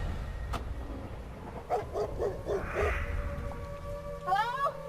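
A dog in the Resident Evil: Welcome to Raccoon City movie trailer gives a few short yips and whimpers, with a higher whining cry near the end, set among trailer music and effects.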